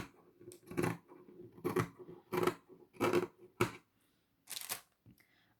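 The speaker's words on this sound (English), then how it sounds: "I'm just going to trim off some of this excess here." Scissors trimming excess material in a craft project, several crisp close snips in an uneven rhythm with short pauses between cuts, heard alone.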